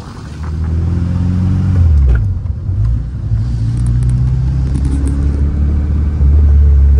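A small Kei truck engine rumbles steadily while driving, revving up and shifting with a low, continuous drone heard from inside the cab.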